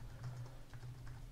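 Rapid typing on a computer keyboard, the keystrokes clicking in quick irregular bursts over a steady low hum, close and moderately quiet with no talking.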